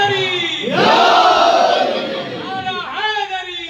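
At a Majlis-e-Aza gathering in a Lucknow madrasa, a single voice leads, then a large crowd roars back a religious slogan in a loud, sustained shout before a second, shorter swell of voices.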